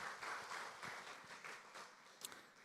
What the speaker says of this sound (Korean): 우리 환영하는 박수 또 감사의 박수를 한번 하겠습니다